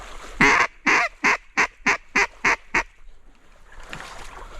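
A mallard drake calls in flooded timber, a loud close run of eight evenly spaced quacks, each a short raspy burst, followed by quieter rustling and splashing.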